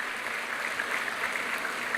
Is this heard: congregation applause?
yes